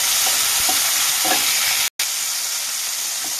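Green chillies and chopped tomato hit hot oil in a kadai for a katla fish curry, giving a loud, continuous close-up sizzle with a few soft stirring knocks and one brief dropout.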